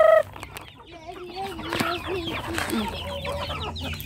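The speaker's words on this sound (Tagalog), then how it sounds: "Pakain ng manok." Chickens being fed cluck and murmur continuously in a busy farmyard, with overlapping bird calls and a brief louder squawk at the start.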